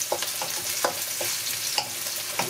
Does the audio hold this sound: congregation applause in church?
no